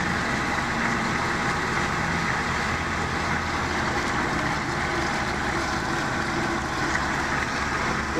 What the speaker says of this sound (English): This is the floc machine.